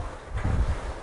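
Cold wind blows across an outdoor set, a brief low rumbling gust that buffets the microphone, swelling in the middle of the second and then easing, with no talk.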